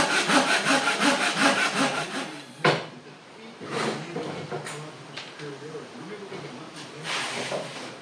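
A hand saw cutting wood for boatbuilding in quick back-and-forth strokes, followed by a sharp knock and a few slower, scattered rasping strokes.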